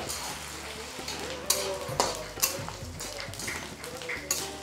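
Cumin seeds and curry leaves fry in hot oil while making akki rotti and red chutney, a soft sizzle beneath sharp clinks of a utensil stirring against the pan at irregular intervals.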